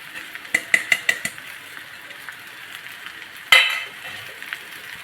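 Soaked poha is stirred into a frying pan with turmeric, opening with a quick run of metallic scrapes and clinks of a spoon, then a louder burst of sizzle as it hits the hot pan, with no voice.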